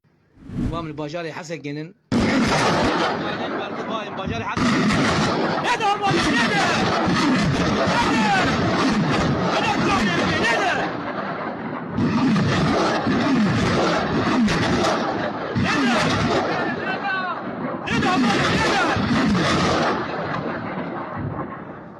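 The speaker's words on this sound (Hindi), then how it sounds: "सीरिया की फौज रॉकेट फायर कर रही है SDF के ऊपर।" The Syrian army fires rockets at SDF positions in Syria, making heavy roaring blasts and rumbling booms that run almost continuously and loudly, with voices in the background.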